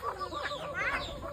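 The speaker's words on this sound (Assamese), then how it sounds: "মায়ে এইফালে হাঁহক কুকুৰা চাউল দি আছে।" Chickens and ducks being fed rice at dusk in a rural yard, with soft clucking and chirping calls from the birds at moderate distance.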